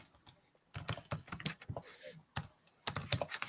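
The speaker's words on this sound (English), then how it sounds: "I'm just typing this" Someone types on a computer keyboard in bursts of quick clicky keystrokes with brief pauses between runs, close and fairly quiet, with no talk.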